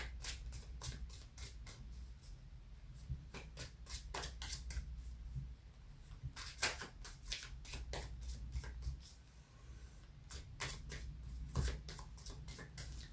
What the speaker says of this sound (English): just a little shuffling to give us a little new energy